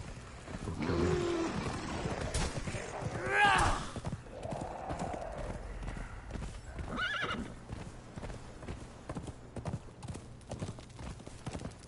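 Horse hooves clip-clop steadily through a fantasy survival game set in Conan Exiles, with a loud whinny rising near the start and faint talk now and then.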